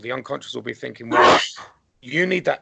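A single sharp sneeze bursts out in the middle of a hypnosis therapy talk. A man's speech comes just before it and resumes right after.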